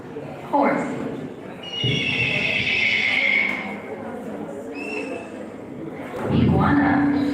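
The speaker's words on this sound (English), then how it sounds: "Horse." A horse whinnying in a loud, drawn-out neigh with a quieter second call and light hoof clopping, while a voice speaks at the start and end.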